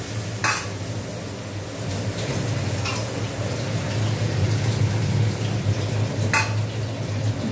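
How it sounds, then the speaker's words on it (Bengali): Masala of chili powder, cumin, coriander powder, turmeric and tomato cooks in a pan for a morula fish curry, a loud continuous sizzle with a few brief scraping stirs. "এবার কষতে দিতে হবে। আর মশলাটা কষবে।"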